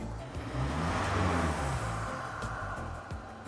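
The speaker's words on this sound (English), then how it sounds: "So when I step on the throttle," A Jaguar F-Pace engine roars steadily under throttle during a diagnostic, a loud sustained rumble that swells and then eases slightly, with no voices.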